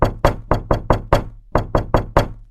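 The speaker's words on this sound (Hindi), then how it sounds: "उसने दरवाजे को ठोका।" Knocking on a door in a Hindi horror cartoon: two bursts of loud, sharp raps, about five knocks then a short pause and four more, close and alone with no voices.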